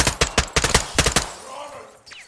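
Rapid bursts of machine gun fire in the Modern Warfare 2 campaign, about a dozen sharp close shots in quick clusters over roughly a second, then a fading tail.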